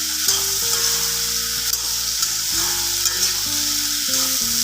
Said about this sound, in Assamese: এতিয়া মই চব্জিখিনি এতিয়া ভালকৈ লৰাই